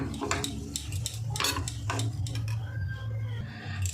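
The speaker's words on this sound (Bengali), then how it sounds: "ঠান্ডা জল দিয়ে গোলাতে হবে এটা।" Milk powder being stirred into cold water in a bowl, with repeated scraping clinks of a spoon against the dish, close and fairly steady.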